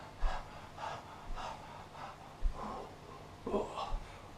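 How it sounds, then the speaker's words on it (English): A person pants rhythmically like a dog in short, breathy gasps, several close puffs in a row. "You might start panting like a dog."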